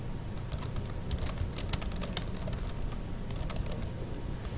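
Quiet clicking of a computer keyboard as a paper title is typed, bursts of rapid keystrokes separated by short pauses, close and soft with no talk.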